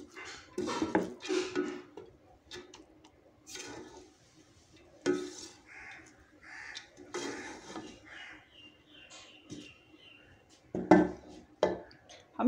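Cooked colourful mutanjan sweet rice is scooped from a pot with a metal spoon, giving scattered clinks and scrapes against the metal with pauses between, while a person talks intermittently.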